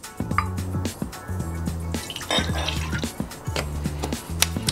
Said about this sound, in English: we're going to add 2 ounces of Baby Jane